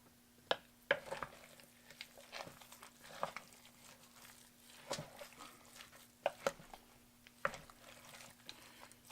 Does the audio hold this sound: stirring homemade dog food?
yes